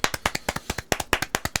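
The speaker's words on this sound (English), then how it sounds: "Delayed clap, it works." A rapid run of about fourteen sharp hand claps or taps in quick succession, close and crisp, each a brief bright burst with a quick decay, with no voices over them.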